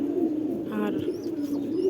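Soft, low pigeon cooing rolls on steadily throughout at a pigeon farm, with a few brief chirps layered above it.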